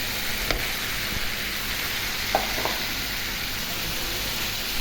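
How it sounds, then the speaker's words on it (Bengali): Sea fish is stir-cooked in spiced masala in a pan for a brinjal curry. It gives a steady, soft sizzle with a few faint clicks of stirring, and no one speaks. "মাছটা একটু কষিয়ে নেব"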